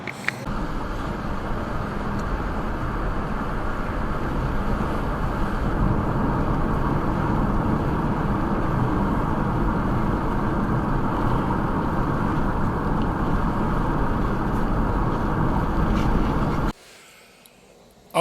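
A car interior on a drive holds a continuous broadband rumble of engine, tires and wind for most of the stretch, then cuts to near silence at the very end.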